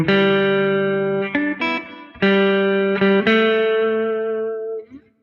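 Electric guitar with effects plays a short riff of sustained, distorted chords and notes, each change clearly separated, ringing loud and close before fading at the end with no talking.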